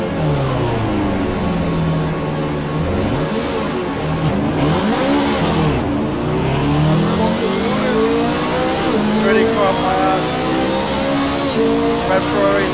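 A Ferrari race car engine in Assetto Corsa, revving hard and shifting through gears with rising and falling whine, other cars' engines layered in, loud and continuous, with voices talking over it.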